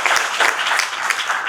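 An audience at a tech week panel on AI and government claps for the panelists, a loud, steady burst of applause filling the room without a break.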